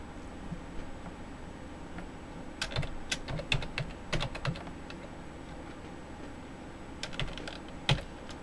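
Computer keyboard typing while a PC name is entered during a Windows 8.1 install, scattered sharp key clicks in short bursts with pauses, close and moderately loud over a faint steady hum.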